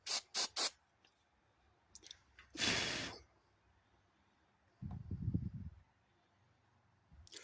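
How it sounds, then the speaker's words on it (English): An aerosol can of super glue activator gives a single short hissing spray burst, near and fairly quiet, after a few faint clicks and a low rumbling noise later on. "I'm impatient with this can of super glue activator."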